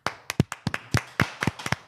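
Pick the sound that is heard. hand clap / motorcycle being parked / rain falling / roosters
hand clap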